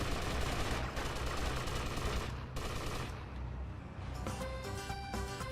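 Gunfire in GTA Vice City during a gang deal: a dense rattle of rapid shots for the first few seconds, then thinning out, with game music and tones coming in toward the end.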